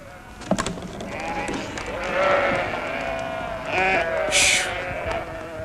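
A flock of sheep bleats in overlapping calls as the animals are released in a mountain setting, with shouting voices breaking in over the steady, fairly loud chorus.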